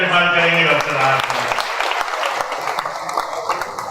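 Applause from an audience at an Urdu poetry recital, a mass of clapping that swells and carries on while a voice speaks over it at the start and music-like tones linger underneath.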